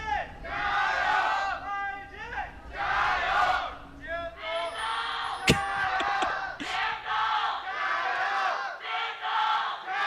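A large crowd at an LPL League of Legends esports match between Invictus Gaming and JD Gaming chants and shouts in loud rhythmic bursts, rising and falling repeatedly with a sharp clap-like hit partway through.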